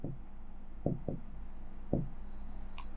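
A teacher writes on a board during a maths lecture, making short scratchy strokes in small clusters over a steady background hum, with no one talking.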